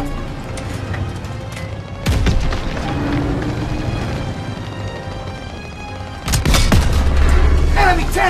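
A tank is blown apart in Call of Duty: WWII, marked by heavy booms at a couple of points amid distant battle rumble and scattered gunfire, with shouted voices around it.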